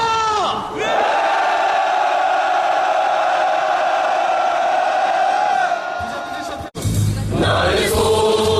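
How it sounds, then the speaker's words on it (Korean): A rally crowd of SK Broadband non-regular workers' union members outside Uijeongbu prison roars in protest aimed at the SK Group chairman. The loud, sustained massed shout lasts about six seconds, drops briefly, then surges again. "함성을 지르도록 하겠습니다"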